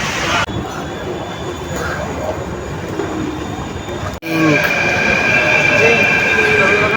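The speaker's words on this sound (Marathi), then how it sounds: "पहिली मेट्रो आहे हा हे बघ ह्याच्यातून जायचं आहे" A metro train rolls loudly nearby, its deep rumble shifting partway through as wheels screech and squeal over the tracks.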